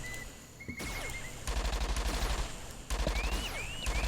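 Bursts of rapid gunfire while hunting creatures in the Entropia video game, several loud repeated volleys with pauses between them and brief high electronic tones, no talking.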